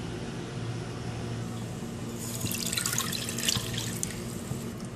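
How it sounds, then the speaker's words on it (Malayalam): Water runs steadily into a pan for cooking, a continuous splashing pour that grows brighter and louder partway through, with a low hum underneath. "ഇനി നമുക്ക് ആദ്യം ഒരു പാനിലേക്ക് വെള്ളം ഒഴിക്കാം"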